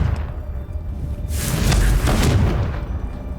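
A Confringo fire spell blasts in Hogwarts Legacy, a single deep boom swelling into a rumbling burst over steady game ambience, with no talk.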